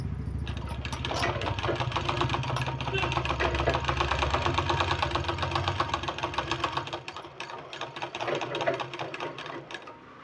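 A sewing machine runs in a steady rapid rhythm while stitching the folded hem of a child's kurta, with a fast mechanical patter that keeps going for several seconds before easing off near the end.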